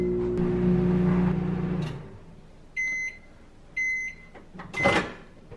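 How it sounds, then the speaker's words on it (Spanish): Microwave oven melting butter for a lobster recipe, its low steady hum running for about two seconds, then a pair of electronic beeps, a door clunk and rattle close by. "Venimos al microondas y la ponemos a derretir por 2 minutos."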